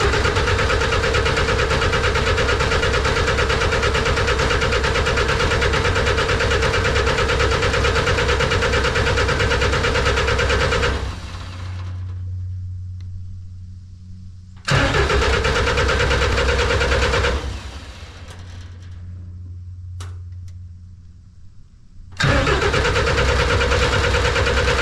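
A snowcat engine cranks, catches and runs at a loud, steady idle for about eleven seconds, cuts out, then is restarted twice, with short quieter pauses between runs and the engine settling into a rough, continuous drone each time.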